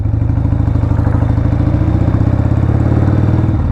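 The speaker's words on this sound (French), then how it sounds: "il me laisse conduire sa moto" Customized Harley-Davidson Sportster under way, a loud close-up V-twin rumble with fast, even pulsing throughout and no talk.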